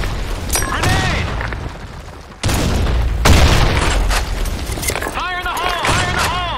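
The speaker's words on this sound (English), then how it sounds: "Grenade! Fire in the hole!" Grenade explosions in the video game Blackshot boom loudly in sharp bursts amid rapid gunfire and game effects, with several abrupt blasts across the span.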